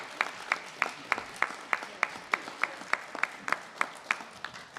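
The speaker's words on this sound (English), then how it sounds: "please clap for Bridget Kozorowski" A school audience in Scranton applauds a first-grade teacher at an education event, with sharp claps in a steady rhythm under a sustained wash of clapping from a moderately distant crowd.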